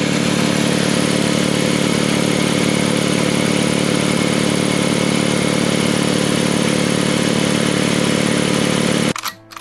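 A large 150-litre oil-lubricated, belt-driven air compressor runs steadily and loudly at close range, a constant mechanical drone with a dense hum that cuts off abruptly at the very end.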